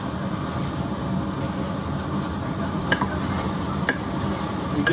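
Stirring and mixing breakfast ingredients seasoned with black pepper and salt in a pan, a steady scraping and sizzling bed with a couple of sharper utensil clicks, no talking.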